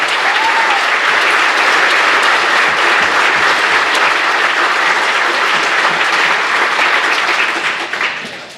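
An audience at a school district Veterans Day program applauds the veterans, a loud, sustained round of clapping from a large crowd that fills the room and tapers off at the end.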